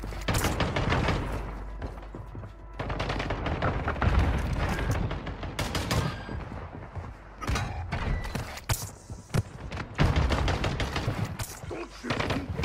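Call of Duty Warzone Mobile match with bursts of automatic gunfire and single shots in irregular clusters, loud and close, mixed with mechanical clanks and brief pauses between volleys.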